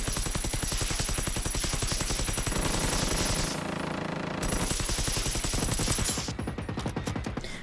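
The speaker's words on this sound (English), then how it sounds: "If you wanna bring an automatic gun to a fight, then this is the gun you wanna bring" Automatic gunfire in the video game Generation Zero, a rapid, sustained burst of shots that runs nearly nonstop, breaking briefly mid-stream before resuming loud and close.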